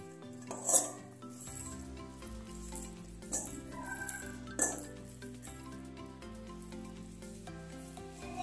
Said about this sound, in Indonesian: lalu aduk ke dalam adonan cukup dengan spatula atau sendok kayu seperti di video